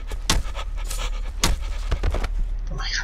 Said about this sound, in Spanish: Dios mío, otra que viene jadeando.